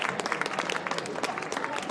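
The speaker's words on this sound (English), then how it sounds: "And good applause there for Savalas Seedon, you can hear." Steady clapping from a large crowd at an Australian rules football grand final, dense and continuous, heard at a distance without a break.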